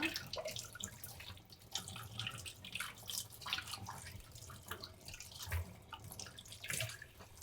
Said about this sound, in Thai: ล้างต้นหอม